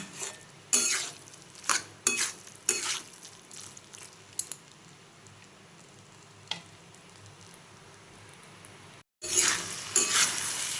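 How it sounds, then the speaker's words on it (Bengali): A pan of vegetable dalia gets tomatoes stirred in, with sharp spoon scrapes and clinks against the pan over a steady low sizzle, then a brief pause before louder scraping resumes. "এরপরে টমেটোটা দিয়ে খুব ভালোভাবে আমি নাড়িয়ে নেব"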